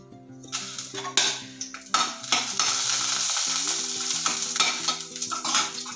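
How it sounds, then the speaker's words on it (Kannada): Mustard seeds, dried red chillies and curry leaves tempering in hot oil in a pan, loud close sizzling with sharp popping bursts and metal stirring clinks, no talking. "ಸಾಸಿವೆ, ಒಣಮೆಣಸಿನ್ಕಾಯಿ, ಒಂಚೂರು ಕರಿಬೇವು ಹಾಕ್ಕೊಂಡ್ಬಿಟ್ಟ."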